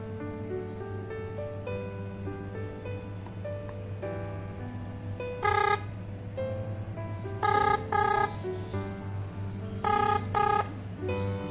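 A call rings out through the speaker of a Zebronics ZebFit 4220CH smartwatch. Short bursts of ringing repeat several times over a steady electronic tone and dialing sounds, with no speech.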